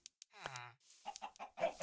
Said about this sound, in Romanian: O găină aici